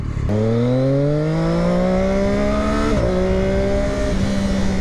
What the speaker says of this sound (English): that is a car or an SUV, or that's something